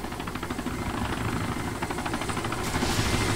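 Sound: helicopter flying in the video game Arma 2

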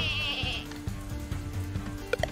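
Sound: goats bleating in video game Lumberhill

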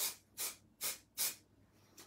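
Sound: spray paint can spraying onto fabric cushion cover

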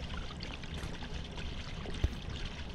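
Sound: water leaking, in the video game Hello Neighbor

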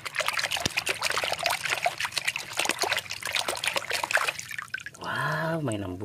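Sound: toy being washed under running water

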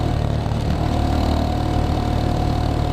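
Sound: Geon X Road 250 motorcycle engine riding in city

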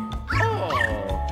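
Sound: dog barking in video game Luigi's Mansion 3

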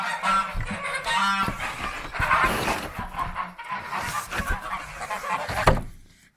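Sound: geese honking

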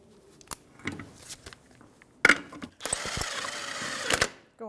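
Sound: 19 mm socket tightening Jeep Wrangler wheel lug nuts

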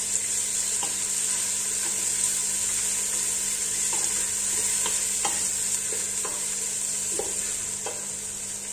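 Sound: onions frying in a pan

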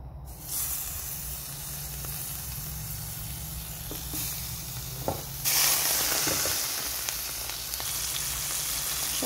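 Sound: hilsa fish frying in hot oil

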